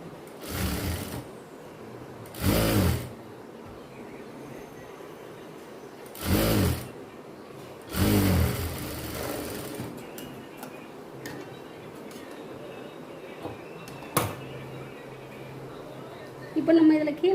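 A sewing machine stitches a child's silk pavadai skirt in several short bursts of rapid ticking, each lasting about a second, separated by pauses with faint handling sounds.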